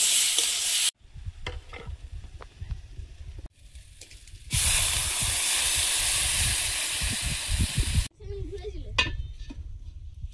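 Fried small pond fish going into a simmering vegetable curry gravy in a pot, giving a loud hissing sizzle that starts and stops in bursts alongside stirring and clinks of a pan, with no talking.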